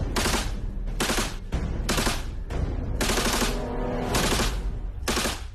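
Bursts of automatic gunfire during air force special forces shooting training, several rapid volleys spaced about a second apart and ringing out loudly outdoors.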